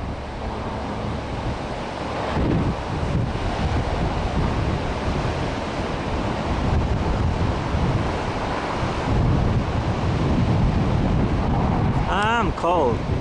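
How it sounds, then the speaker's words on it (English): Ocean waves and rough surf wash continuously along the Oregon coast near Depoe Bay and Cape Foulweather, a loud, broad roar buffeted by heavy wind noise on the microphone, with a brief voice near the end. "Yeah, the ocean's a little riled up."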